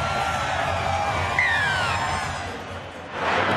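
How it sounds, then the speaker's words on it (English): Thousands of Blues fans massed at the northern end of a stadium during a State of Origin rugby league match, New South Wales against Queensland, make a steady distant roar with a brief whoop partway through. "Now there's thousands of them down there. Have a look at them. That's a crowd."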